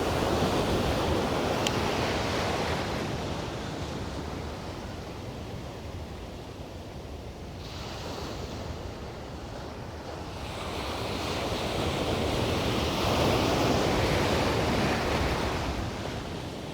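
Surf rolling in steadily with wind buffeting the microphone on an open beach during fishing, a continuous broadband wash that swells louder toward the end, with no talking.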